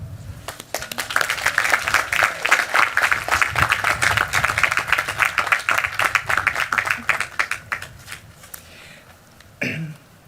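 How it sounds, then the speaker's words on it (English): Commencement audience applauding for graduates, a thick burst of clapping that swells, holds and then thins out to scattered claps before a brief thump near the end. "And once again, we applaud you."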